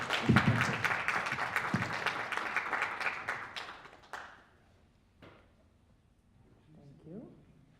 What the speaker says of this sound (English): So please let's clap together for her.